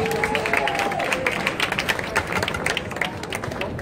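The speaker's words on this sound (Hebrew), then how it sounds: "וגם מגיע מחיאת כפיים לעדים שלנו" A crowd at a wedding ceremony claps for the witnesses, dense steady applause close by, with a brief voice at the start.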